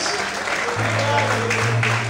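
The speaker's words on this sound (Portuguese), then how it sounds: "Será que você pode aplaudir o Senhor nesta manhã?" A church congregation applauds during a sermon, a broad wash of clapping heard throughout, joined midway by a steady low organ or keyboard chord.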